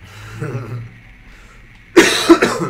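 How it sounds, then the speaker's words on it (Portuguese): Sharp coughing from a person playing Rainbow Six Siege, two loud close bursts near the end after quieter background game sound and murmur. "Está-me a dar para tossir, hein?"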